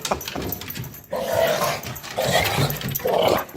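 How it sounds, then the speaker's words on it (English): A dog growls low and rough in several sustained rumbling bursts, close and fairly loud, with no talk over it. "What is that, Michael Vick's dog?"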